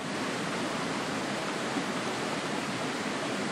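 Water from a river rushing steadily in a dense, continuous broadband wash, close and fairly loud with no other sounds.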